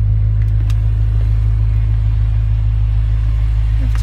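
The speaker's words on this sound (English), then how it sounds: "As you can see, the car is running and it's not too loud, the exhaust." BMW M5 fitted with an Akrapovic quad exhaust idles with a steady, loud, low rumble that stays even throughout, with no revving.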